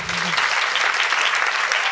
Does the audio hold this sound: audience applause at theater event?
yes